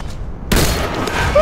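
A sniper rifle shot in a shooting video game bursts in after a brief quiet moment, loud and close, with a booming tail that fills the rest of the moment.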